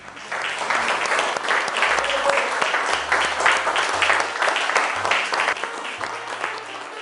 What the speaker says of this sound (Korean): 격려의 박수를 받으며 모습을 드러낸 오늘의 주인공 이명숙 셰프.